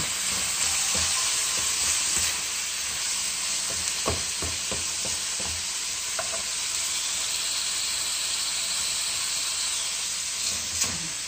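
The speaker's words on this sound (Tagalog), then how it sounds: "Haluin na natin ng haluin lang para mapantay." Spaghetti sauce is stirred in a pan, giving a steady sizzle and hiss with repeated soft scraping strokes that run through the whole stretch, close up and with nobody speaking.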